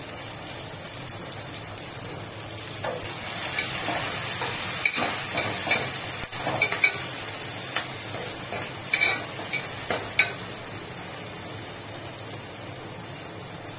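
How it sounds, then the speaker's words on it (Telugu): Onions, curry leaves and green chillies fry in a pan for a cauliflower egg curry, giving a steady close sizzle with scattered crackles and pops and occasional stirring scrapes, with no one talking. "ముందుగా సన్నగా కట్ చేసి పెట్టుకున్న ఆనియన్స్ అండ్ పచ్చిమిర్చి వేసుకుంటానమాట. సో అది కొంచెం దోరగా వేగాలి."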